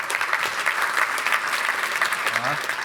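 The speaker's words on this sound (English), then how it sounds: "let's give her a round of applause" A crowd applauds at a Vaisakhi celebration at Wembley Stadium, steady broad clapping for a few seconds with a faint voice near the end.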